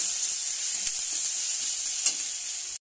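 Snake gourd and ginger, salted, sizzle steadily in a frying pan, giving an even, close hiss with a few faint crackles and a sharp clink right at the end. No one speaks.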